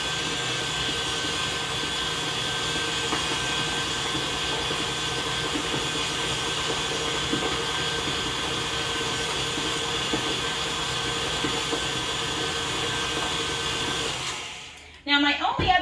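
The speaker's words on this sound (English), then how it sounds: "this type of stand-up mixer is a very strong mixer" A stand mixer runs steadily at high speed in a home kitchen while a boxed cake mix is being dressed up, a constant whirring motor drone that holds level, then cuts off abruptly near the end.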